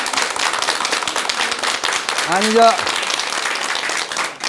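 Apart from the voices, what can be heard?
audience clapping at a Buddhist talk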